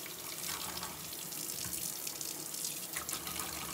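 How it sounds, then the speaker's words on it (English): Tap water runs into a ceramics bulb slip trailer to fill it, a steady close hiss and splash of flowing water with slight gurgling as the bulb fills. "Now I'm going to fill this up again."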